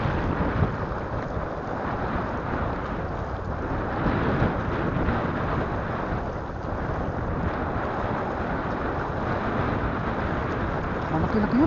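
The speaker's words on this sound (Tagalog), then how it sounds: "Hirap lang lakas ng hangin." Strong wind buffets the microphone in a steady broadband roar while fishing from a boat off Oriental Mindoro, with no clear voices cutting through the constant gusting.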